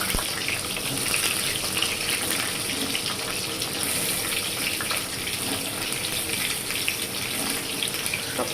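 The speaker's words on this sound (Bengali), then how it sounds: "তেল গরম হয়ে গেছে, এর মধ্যে আমি পটলগুলোকে ছেড়ে দেব।" Pointed gourd pieces dropped into hot oil and frying, a dense continuous hiss and crackle at close range, fairly even throughout with no pauses and no talk.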